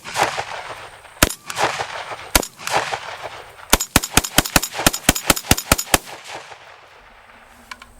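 Ruger Mini-14 rifle firing 5.56 rounds at a cantaloupe outdoors, a few spaced sharp cracks followed by a rapid string of about ten loud shots in quick succession.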